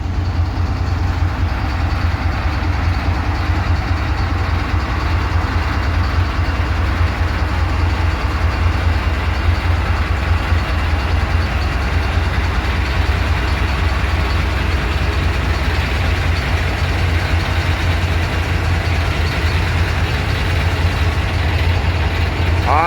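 Idling EMD SD70 diesel locomotive at a rail yard: a steady, loud, low engine rumble that holds without a break throughout, with no voices over it.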